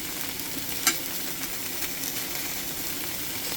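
Thin sliced marinated LA galbi beef chuck short rib sizzling in a non-stick pan, a steady close hiss with a single sharp scrape of a metal utensil near the start.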